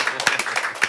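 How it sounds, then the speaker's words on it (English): A small group at a live show claps briefly, with a handful of distinct, fairly close hand claps in a loose, quick burst. "So, clap for Stevens and Pruitt."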